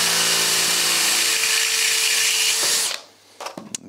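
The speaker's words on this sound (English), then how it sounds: "I need to drill it out a little bit to about 4 millimeters." A power drill whines steadily at close range for about three seconds while drilling a hole out to 4 mm in metal on an MGB GT, then winds down and stops, followed by a few small clicks and knocks.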